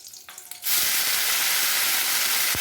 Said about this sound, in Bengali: তেলটা গরম হয়ে গেছে আমি এখন কালো জিরা ফোড়নটা দিয়ে নিলাম দিয়ে আমি কাঁচা লঙ্কাটাও দিয়ে দিলাম